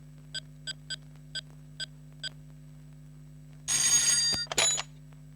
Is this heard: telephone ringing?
yes